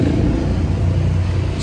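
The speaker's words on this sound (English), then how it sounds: "There's a lot of traffic noise out here." Steady, dense road traffic in Rome heard from a balcony, a continuous low engine rumble and hiss with no breaks and no single vehicle standing out.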